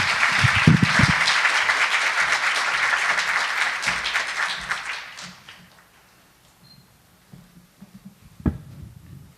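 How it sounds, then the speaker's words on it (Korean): A crowd applauds loudly for several seconds at the opening ceremony of a diplomatic symposium in Korea, welcoming the foreign minister's keynote; then the clapping fades away into near silence, with a brief thump near the end. "큰 박수로 환영해 주시기 바랍니다"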